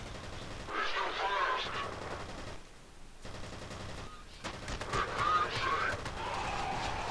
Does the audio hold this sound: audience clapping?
no